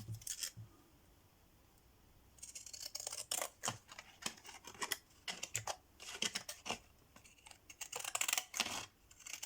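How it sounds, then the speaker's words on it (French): Small scissors snip around the edge of a paper envelope, a quick series of crisp close cuts in irregular bursts after a brief quiet pause, fairly faint overall. "Ici, je vais recouper avec mon ciseau."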